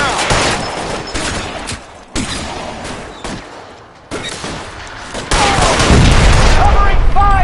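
Gunfire during a shootout in the video game LA Noire: rapid bursts and booming shots come in waves, loud and close, with a voice shouting over them.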